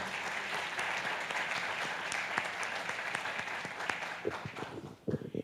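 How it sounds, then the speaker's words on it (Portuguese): A church congregation applauds during a Sunday service, a dense, sustained wash of many hands clapping that fills the room and thins out toward the end. "Aplaudamos o Deus vivo."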